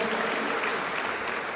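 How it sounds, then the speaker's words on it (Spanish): Church congregation applauding, a dense, even wash of clapping that holds steady and fills the room for a brief moment without any speech. "Aplauso para el Señor Jesús."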